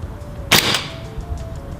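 An airsoft replica Steyr AUG A2 fires a single semi-automatic shot in cool 12-degree weather, a sharp, loud crack with a short burst of noise that dies away quickly over faint background hum.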